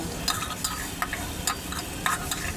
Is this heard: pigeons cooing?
no